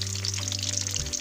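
Fish frying in a pan with hot oil, giving a steady close bubbling sizzle that holds evenly for a moment with no voices.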